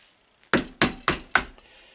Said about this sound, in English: just used a screwdriver and a hammer and tapped it